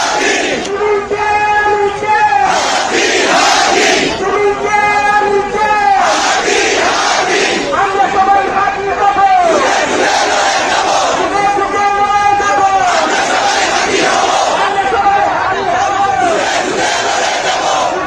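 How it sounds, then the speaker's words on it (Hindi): A large protest crowd at the Shahbag intersection in Dhaka shouts rhythmic slogans in unison, with loud, repeated chant phrases rising and falling over a constant roar. "दिन में शाहबाग में निकली भीड़, सुनिए देखिए।"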